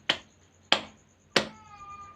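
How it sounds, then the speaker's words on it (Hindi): Three sharp, close hand claps about 0.6 seconds apart from a Rajasthani Terah Taali folk dance, with a faint metallic ringing lingering after the last one; no voices. "वे ताली बजाते रहते हैं।"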